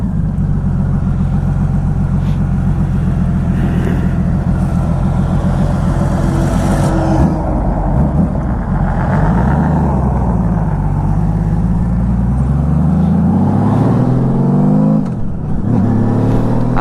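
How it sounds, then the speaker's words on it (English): A Honda roadster motorcycle engine, the same motor used in the Goldwing, revs loud and close, a continuous rich roar that rises and falls through several throttle sweeps with no talk. "Honda's been making this motor for a while, but they've been making a little more tame, a little more quieter when they put it in the Goldwing."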